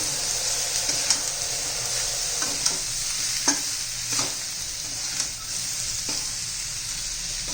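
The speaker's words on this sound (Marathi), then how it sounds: "त्यात भेंडी घालून घेऊया व्यवस्थित मिक्स करून घेऊ" Okra stir-fried with besan and a little turmeric in a pan, a steady close sizzle with occasional stirring scrapes and clicks of the spoon, no talking.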